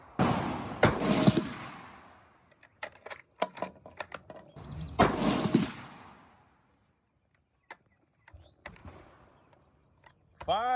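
Rifle shots ring out at a 600 yard range: two loud, sharp cracks with long decaying echoes about four seconds apart, with faint clicks and mechanical handling noises between them.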